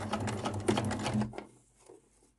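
Sewing machine stitching back over an existing seam on fabric, a fast close mechanical whirr with rapid needle ticking for about a second and a half before slowing and stopping, no voices.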